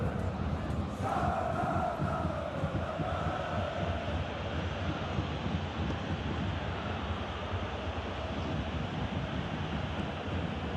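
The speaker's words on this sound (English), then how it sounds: "Crowd appreciates good football all round there" A stadium crowd in the PES 2021 football video game, a broad steady roar of cheering and noise that stays constant and fairly loud throughout.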